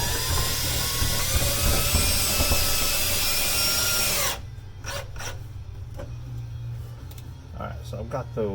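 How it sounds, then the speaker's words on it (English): A power drill runs steadily while snugging screws into a plastic fishing rod holder mounted on an Undercover SE tonneau cover, then cuts off, leaving a few faint knocks and handling sounds. "So I've got those snug with the drill."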